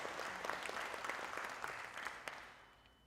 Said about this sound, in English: Can you give them a big round of applause for that resilience?